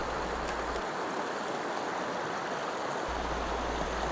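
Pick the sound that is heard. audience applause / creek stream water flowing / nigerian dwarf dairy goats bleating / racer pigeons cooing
creek stream water flowing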